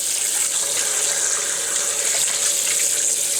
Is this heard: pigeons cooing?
no